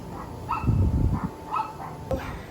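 A dog outside near a garage barks several times in short, uneven bursts at moderate distance, with low rumbling background noise in between.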